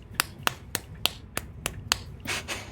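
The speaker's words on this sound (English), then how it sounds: "I'm just slapping my cheeks and it's making a clap noise." Nine sharp, evenly spaced slaps from someone slapping their own cheeks ring out one after another, close and crisp like hand claps, with a brief rustle near the end.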